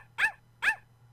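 Two short, sharp dog barks from the Mr. Snoozleberg video game ring out evenly spaced over a faint steady hum, with no talking.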